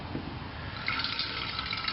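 Cool boiled water pours into a yeast starter, a steady close liquid trickle that brightens and fills out partway through, heard alone without talk.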